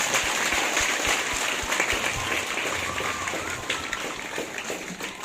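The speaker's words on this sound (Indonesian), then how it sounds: "Kita tepuk tangan dulu untuk mereka." Audience clapping steadily at an outdoor school ceremony marking Indonesian Independence Day, dense and continuous throughout with crowd murmur mixed in.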